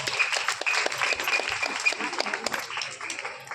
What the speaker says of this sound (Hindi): एक बार जोरदार तालियां कन्या जी के लिए